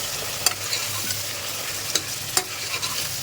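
Mutton fries in a pan for dal gosht while being stirred: a continuous loud sizzle runs throughout, broken by several sharp scrapes and clanks of the spoon against the pan, with no speech.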